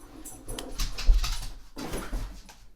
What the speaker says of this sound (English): What is the dog doing?